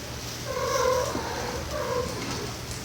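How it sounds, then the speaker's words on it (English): Pet cats playing nearby, with drawn-out yowling cries rising twice over a low steady background hum. "It's my cats. They're playing."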